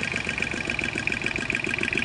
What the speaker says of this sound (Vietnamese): Rồi chích cho nó chạy.